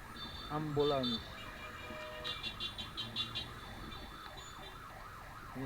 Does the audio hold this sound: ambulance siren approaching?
yes